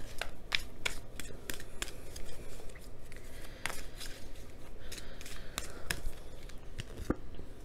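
Oracle cards are shuffled and pulled by hand, a run of close, crisp flicks and snaps in an uneven rhythm, alone with no talking.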